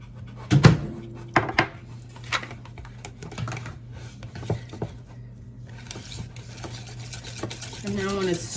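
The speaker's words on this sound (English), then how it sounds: "And now I want to stir to make it smooth." Blueberry popover batter with butter stirred in a bowl until smooth. Irregular clicks and knocks of a utensil against the bowl are heard up close, followed by softer, steady mixing sounds.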